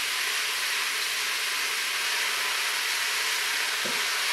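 Chili meat browns in a Crock-Pot Express pressure cooker, giving a steady, dense hiss and sizzle up close with faint stirring, unbroken throughout.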